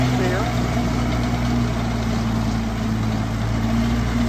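A 2006 Case 550H LT crawler dozer engine idles close by in a steady, loud diesel rumble with a constant low hum throughout, while someone speaks over it.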